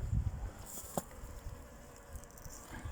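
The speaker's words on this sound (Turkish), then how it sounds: "eşek arısı gelmiş." A hornet buzzes faintly and steadily near beehives, droning over soft outdoor background noise.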